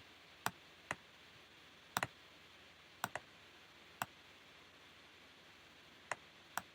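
Computer mouse clicks, sparse and crisp, some in quick double pairs, isolated against a faint steady hiss in a quiet room.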